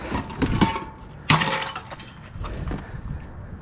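Glass crushed to make frit for smelting, heard as a sharp crunching break around the middle, with scattered clinks and crackles before and after against a low noisy background.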